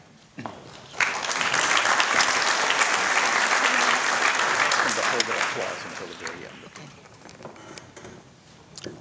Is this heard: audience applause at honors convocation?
yes